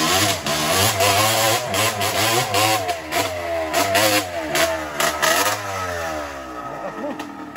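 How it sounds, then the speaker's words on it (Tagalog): Motorcycle engine revs hard again and again while climbing a steep rocky uphill trail, loud, close surges of rising and falling pitch with throttle blips, no talk over it. "Ang lakas pati ng motor mo"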